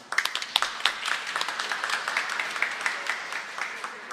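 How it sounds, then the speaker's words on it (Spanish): A congregation claps during Mass in a parish church, many hands producing a steady patter of sharp, fairly close claps that hold a brisk rhythm for several seconds. "Se merece un fuerte aplauso."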